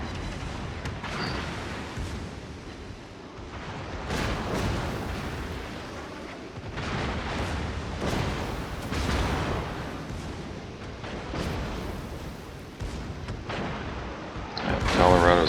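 Battleship secondary guns fire in a naval combat video game, heard as repeated booming shots and rumbling blasts spread across the stretch, mixed under an excited commentator's voice.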